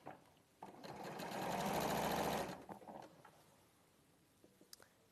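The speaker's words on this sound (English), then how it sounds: "put the foot back down and continue to sew" A sewing machine stitches fabric in one steady, fairly loud run of about two seconds, starting abruptly and stopping, with only faint handling noises before and after.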